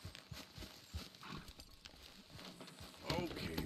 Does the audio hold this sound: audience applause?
no